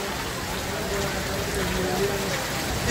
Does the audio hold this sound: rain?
yes